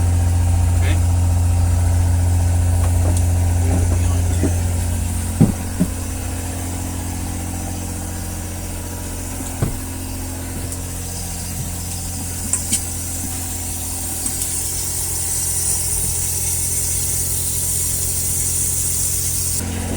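A DIY boat water maker runs at 600 psi, a steady mechanical engine-like hum with a low tone that shifts partway through, plus a few sharp knocks and clicks scattered over the run.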